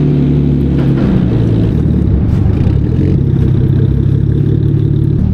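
Car engine idling and rumbling up close as the vehicle drives in and then reverses at night, a loud steady low-pitched drone with light clatter throughout.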